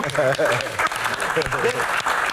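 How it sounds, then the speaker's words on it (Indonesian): Applause from a podcast studio audience during an Indonesian Q&A session, dense clapping sustained across the moment with voices talking over it. "Asik, tepuk tangan dong."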